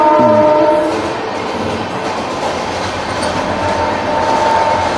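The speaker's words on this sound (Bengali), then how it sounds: "ট্রেনটা যাক," A train passes close by, loud and steady throughout, with a horn blast at the start and a continuous rumble and rattle of wagons.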